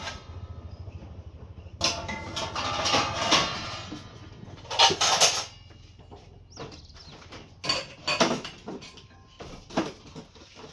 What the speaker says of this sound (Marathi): भांडी मांडायला लागली ना नको वाटते भांडी मांडायला